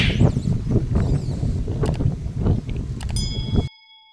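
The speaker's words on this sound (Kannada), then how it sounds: "ಆ ಥರ ತಂಪಾದ ವಾತಾವರಣ ಗಾಳಿ ಹಾಗೆ ಬೀಸ್ತಾ ಇದೆ" Wind gusts buffet the microphone with a low, rumbling roar that rises and falls for several seconds in open farmland, then cuts off abruptly.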